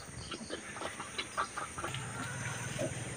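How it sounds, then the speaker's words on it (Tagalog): Chickens cluck in short irregular bursts on a pig farm, with a low steady hum and scattered rustling in the background; no one speaks. "At may manok pang pumasok."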